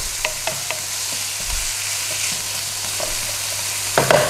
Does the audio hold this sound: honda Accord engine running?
no